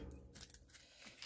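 Scissors snip through paper labels in a quick, close cutting sound with a sharp final snap, no talk over it.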